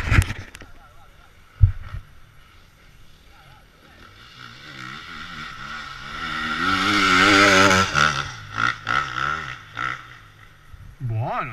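A loud motorcycle approaches and roars past close by, its engine note climbing and then falling away. People are talking before and after it goes by.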